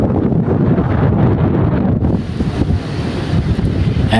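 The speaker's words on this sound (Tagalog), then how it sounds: "Lakas ng hangin." Strong wind on a shore buffets the microphone in a loud, continuous roar, with a surf-like wash underneath and no voices.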